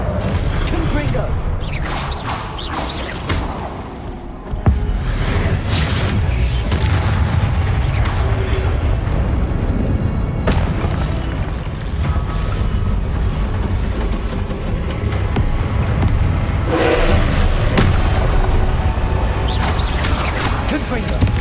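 Confringo explosive spell blasts in Hogwarts Legacy, a loud string of booming detonations and crashes layered with whooshes and clattering mechanical game effects, repeating across a busy combat soundscape.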